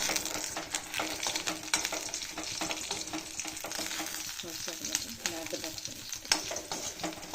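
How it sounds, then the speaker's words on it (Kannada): Green chillies fry in a pan over a gas flame, giving a steady close sizzle broken by scraping stirs and a few light clinks of utensil against metal, with no talk. "ಗ್ಯಾಸ್ ಹಚ್ಚಿಬಿಟ್ಟು ನಾನು ಮೆಣಸಿನ್ಕಾಯಿ ಬೆಚ್ಚಗೆ ಮಾಡಲಿಕ್ಕೆ ಇಡ್ತೀನಿ"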